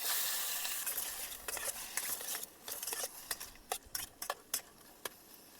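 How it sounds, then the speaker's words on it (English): Mushrooms sizzle and crackle in a hot pan, with sharp pops and ticks scattered through the frying, growing more distinct toward the end. "Yeah, I'm just gonna try to fry them for a second."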